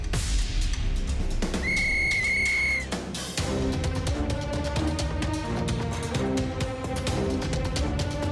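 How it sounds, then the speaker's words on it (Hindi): A referee's whistle blown to start a race in a Diwali-themed Chhota Bheem cartoon gives two sharp, loud shrill blasts, followed by a surge of upbeat music and cheering. "सीटी बजाते ही रेस शुरू हो जाएगी।"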